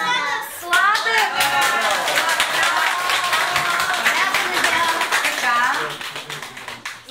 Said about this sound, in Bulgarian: Заслужават аплодисменти.